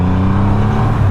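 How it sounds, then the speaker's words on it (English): A Triumph Rocket 3R roadster motorcycle engine running loud and close, a steady deep rumble held through a short throttle blip with no voices. "Oh, just a little blip of the throttle and you're off."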